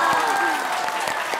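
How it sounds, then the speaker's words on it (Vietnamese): Audience applause for a baby at a family gathering, a steady, full wash of many hands clapping at once, with a voice speaking over it. "Xin mời tất cả quý vị dành một tràng pháo tay cho em bé."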